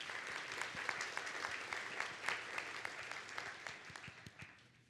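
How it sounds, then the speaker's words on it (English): Applause from a conference audience at the opening of the 39th IEEE Symposium on Security & Privacy, steady dense clapping with no voices, fading slightly toward the end. "So please, a big round of applause to our generous donors."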